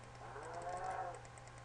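A cow moos in the Minecraft video game, a single drawn-out low call lasting over a second, fairly faint and alone with a steady hum beneath it.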